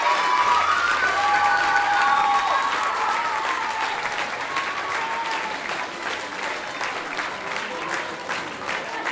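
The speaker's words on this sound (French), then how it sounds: "On peut les applaudir très fort tous." A crowd claps loudly and steadily for performers at a show in Prigonrieux, France, sustained dense applause with a few whistles early on.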